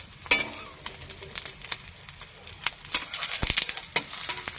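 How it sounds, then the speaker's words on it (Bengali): Steady sizzling of egg toast frying in a pan, with crackles and pops throughout and a few louder bursts, close up with no voices. "এবার হালকা হালকা করে একটু ভাজা হোক"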